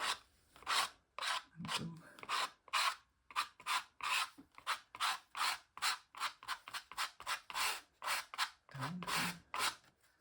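A credit card scraped through paint on a mixed media piece, producing repeated rasping strokes in a loose rhythm, close and fairly loud, with a few brief spoken words in between.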